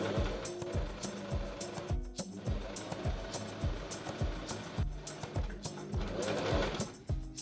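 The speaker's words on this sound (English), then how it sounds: "now I'm on the other half, so I will stop sewing here" A sewing machine runs in steady rhythmic bursts as it stitches linen fabric for a summer skirt, the close, loud whirring paused briefly a few times, with no talking.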